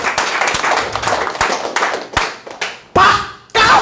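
A church congregation claps in uneven bursts, sharp hand claps and taps close by, rising and falling before two louder surges of applause near the end.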